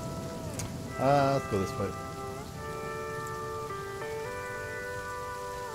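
Steady rain falls in the video game The Flame in the Flood, a soft constant patter beneath tonal music notes, with a short spoken line near the start.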